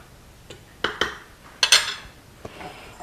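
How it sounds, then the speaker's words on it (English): Flour seasoned with salt and pepper is mixed on a plate with a utensil, giving a handful of sharp clinks and scrapes against the plate, spaced irregularly and fairly close, with quiet gaps between. "I'm just going to mix that in with the flour"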